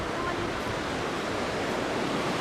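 Steady, dense roar of ocean surf washing in continuously at Sabang Beach, broadband and fairly loud, with no distinct pauses between waves.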